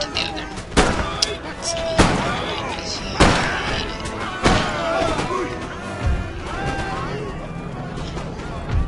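Cannon fire in the strategy game Empire: Total War, a series of loud booming blasts about every second or so, each with a decaying rumble, amid battle noise and some speech.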